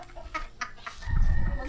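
A chicken gives a few short, close clucks in quick succession, followed by a louder, low rumbling noise that covers the end.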